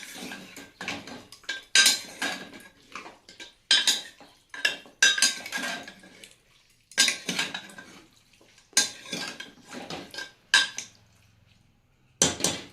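A spoon scrapes and clanks around a metal pot of mutton in repeated bursts of stirring, with short pauses between strokes; close and fairly loud, no talking.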